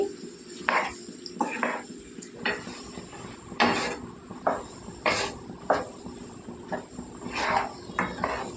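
Cucumber and eggplant curry being stirred in a metal pot, with repeated scraping clinks of a spoon against the sides at an irregular rhythm and a soft background hum, close and fairly quiet.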